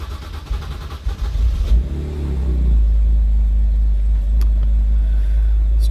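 BMW E90 330i engine cranking and catching after a fuel pump replacement: brief starter churn, then the motor fires and settles into a deep, steady idle rumble, close by with no talk.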